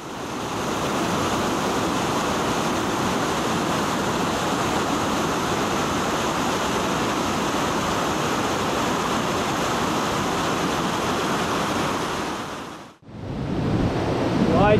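A turquoise river on Vancouver Island, British Columbia, rushes loudly and steadily over rapids and cascades in a broad, constant roar. It cuts out briefly near the end, then resumes.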